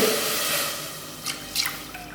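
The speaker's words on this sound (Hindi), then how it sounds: "तो हम दूध डालेंगे" Milk poured into a pot on a lit stove for rice kheer, a steady close liquid stream with faint splashy patter throughout.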